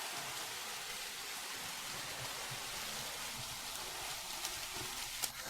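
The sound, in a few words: rain falling outside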